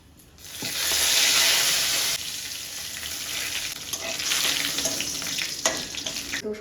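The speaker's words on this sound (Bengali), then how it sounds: "এখন ফোড়নে দিয়ে মশলাটা কষিয়ে নিয়ে তারপরে আলুগুলো দিয়ে কষাবো" Spices sizzle loudly in hot oil in a wok, ready for potatoes that were already fried along with paneer; a steady, dense crackling hiss rises, eases slightly, then swells again with occasional sharper pops, and no one speaks.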